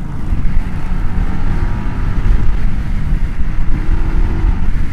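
Indian Scout 101 motorcycle accelerating through higher gears in sport mode, a loud continuous low engine roar heavily mixed with wind buffeting across the microphone, no talk.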